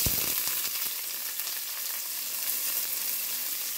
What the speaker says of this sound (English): put a little olive oil in the skillet. We're going to saute our peppers and onions first.